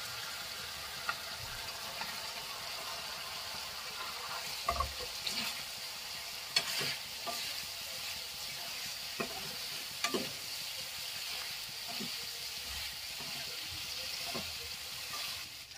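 Paneer chilli fried and stirred in a pan: steady close sizzle throughout, with occasional sharp utensil scrapes and clinks as the food is moved around, no talking.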